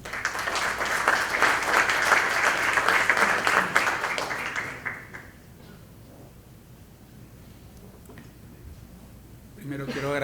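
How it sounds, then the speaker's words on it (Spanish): An audience at a public lecture applauds to welcome a speaker, a dense wash of clapping for about five seconds that then drops to quiet room tone before a voice begins speaking. "Lo recibimos con un aplauso, por favor."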